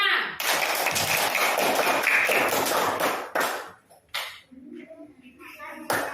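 Classroom group applause for a student team in an Indonesian lesson, a dense burst of many hands clapping for about three seconds before it thins out, with a teacher's voice speaking over the end.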